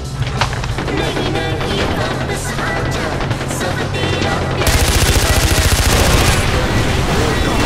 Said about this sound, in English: There's a gun underneath the dashboard!